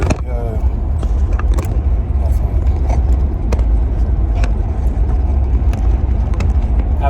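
A car drives along the road, heard from inside the cabin as a steady low engine and tyre rumble, with scattered faint clicks and knocks over the drone.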